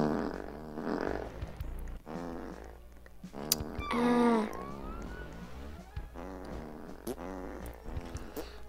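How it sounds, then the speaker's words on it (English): Cartoonish fart sound effects in the Roblox video game, a few short squelchy bursts with one louder pitched blurt midway, heard over busy game background noise and some voice-like sounds. "I fart whenever I go in the air."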